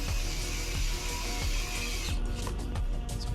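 Small screwdriver, slightly magnetized, driving the main case screws back into a Spartan Ghost/Go camera after a button replacement: a steady run of close ratcheting clicks with a few sharper ticks near the end.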